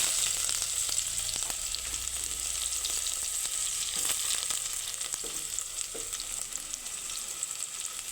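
Sliced onions frying in hot oil, a steady, fairly quiet sizzle with a few brief stirring clinks, continuous throughout with no talking.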